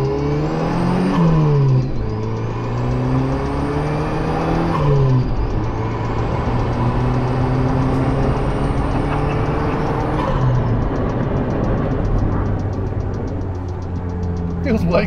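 Turbocharged 3RZ four-wheel drive accelerating hard at 10 psi boost, the engine climbing through repeated rising gear pulls with a steady turbo whir, loud and close from inside the cabin; a voice is faintly present.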